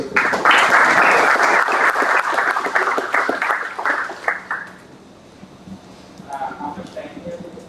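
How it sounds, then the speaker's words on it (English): Audience at a startup event breaks into loud applause that rises quickly, then thins out and fades after about four seconds, leaving quiet room tone with a few faint sounds. "I really request the audience to for a round of applause."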